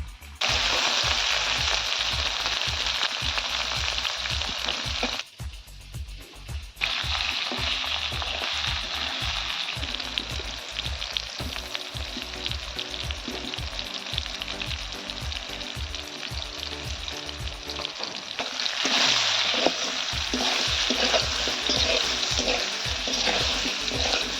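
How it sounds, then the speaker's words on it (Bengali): Potato and eggplant pieces fry in hot oil with a loud, continuous close sizzle, broken by repeated rhythmic stirring scrapes and a brief quieter dip partway through. "আলু বেগুনটা ভালো করে ভাজা হয়ে গেছে"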